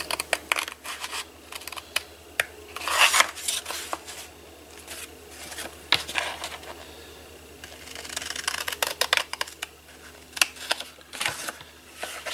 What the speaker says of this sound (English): And then we're going to cut up on all of these score lines.